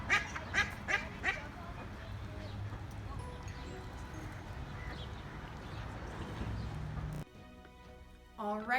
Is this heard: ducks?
yes